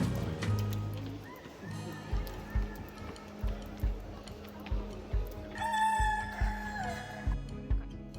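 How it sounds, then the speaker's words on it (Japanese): Chickens and a rooster crowing around the Batu Caves temple grounds in Kuala Lumpur, Malaysia, the crows rising over a steady run of dull rhythmic knocks and background ambience, moderately distant. "鶏がとても多かったです。"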